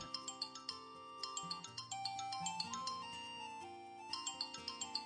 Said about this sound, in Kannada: ಫೋನ್ ರಿಂಗ್ ಆಗ್ತಿದೆ ರಿಸೀವ್ ಮಾಡಿ